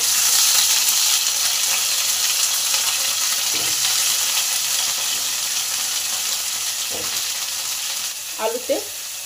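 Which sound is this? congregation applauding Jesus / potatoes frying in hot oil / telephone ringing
potatoes frying in hot oil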